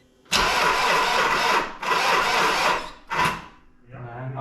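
An engine is started again, with three loud cranking bursts of a starter motor separated by short pauses, the last one brief, followed by a low, quieter hum.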